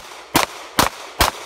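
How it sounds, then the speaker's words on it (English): Three sharp, loud pistol shots from an Avidity Arms PD10, fired while moving, evenly spaced about half a second apart, close and alone with no voices. "So we're just shooting and moving now."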